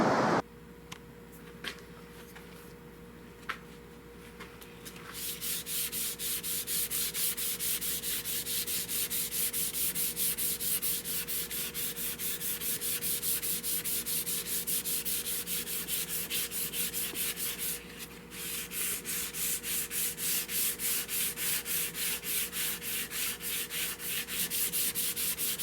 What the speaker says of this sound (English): It's ready to start the stripping process.